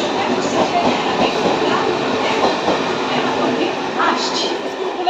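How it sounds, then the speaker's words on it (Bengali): A train rolls past loudly and close, a dense steady roar of wheels and carriages filling the whole stretch without pause. "ট্রেন আসছে"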